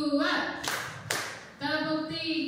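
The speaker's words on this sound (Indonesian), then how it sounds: "Oke, boleh tepuk dulu." Group hand clapping in a classroom concentration exercise, a couple of sharp clap bursts breaking up a steady patterned rhythm, with voices chanting counts over it.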